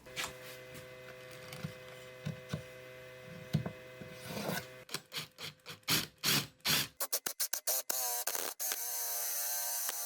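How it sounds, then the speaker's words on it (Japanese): Rasping strokes of a file or sandpaper working the rough cut-out opening of a wooden Bluetooth speaker box, starting as soft scattered scrapes and turning into a run of quick, distinct, close strokes. "ヤスリがけでごまかしてなんとか使います。"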